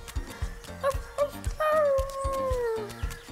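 A child imitates a dog, giving a few short yips and then a long, drawn-out howl that slides downward, close and fairly loud, over a bouncy children's-show music bed.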